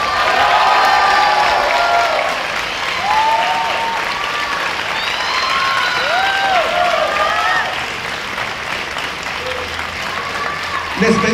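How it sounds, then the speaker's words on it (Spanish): An audience applauds the cast of the telenovela Papás por Conveniencia at a press presentation, with steady, loud, sustained clapping mixed with cheers and overlapping voices calling out throughout. "Les pedimos un fuerte aplauso para el elenco de Papás por Conveniencia"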